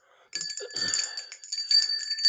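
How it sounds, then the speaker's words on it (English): Bright ringing bell with sustained high metallic overtones, repeated rapid strikes for a couple of seconds after a brief quiet start, close and fairly loud. "Ring that freaking bell."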